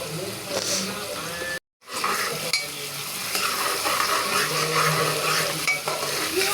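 Steady sizzling of onions frying in a pan with stirring scrapes, a brief silent gap early on, then continuous crackle.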